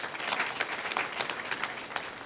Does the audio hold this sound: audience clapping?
yes